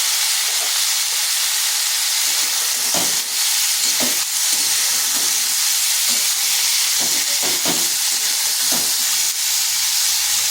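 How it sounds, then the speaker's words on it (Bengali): Potato and kakrol frying in oil with salt and turmeric give a steady close sizzle and hiss throughout, broken by several sharp scrapes and stirring clatters. "এই আলু আর কাঁকরোলটা ভাজা ভাজা করে নেব"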